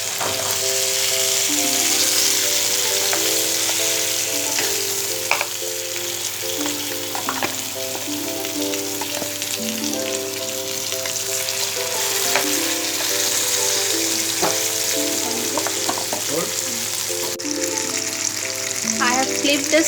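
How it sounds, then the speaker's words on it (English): Continuous loud sizzling of chital fish frying in hot mustard oil, crackling and popping steadily, with occasional clinks of a utensil. "now I am going to fry my fish"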